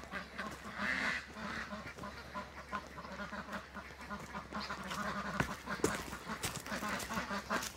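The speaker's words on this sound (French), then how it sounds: "on a mis toutes les oies, les canards blancs de l'Allier et les canards coureurs indiens" A mixed flock of geese, white Allier ducks and Indian Runner ducks quacks and honks continuously at a poultry show, with many overlapping calls near and far against a busy background murmur.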